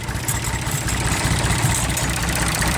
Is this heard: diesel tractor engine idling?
yes